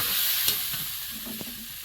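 Soft sizzling of papaya frying in a pan, with a few light scrapes of stirring, quiet and close.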